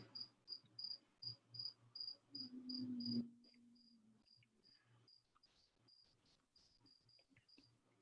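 Crickets chirp in a steady, evenly spaced pulsing rhythm during an online class, clear at first and then fading under faint background noise and a brief low hum.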